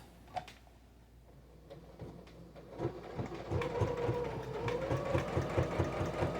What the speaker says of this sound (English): I'm back stitching and going forward